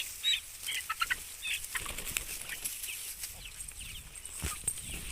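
Young chicks in a cage flap their wings in quick bursts and give light clucks and peeps, fairly close, with rustling movement throughout and no talk.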